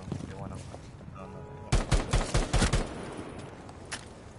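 Gunfire from a team kill in a shooter video game: a rapid burst of about seven loud, close shots over roughly a second, set against a quieter background murmur.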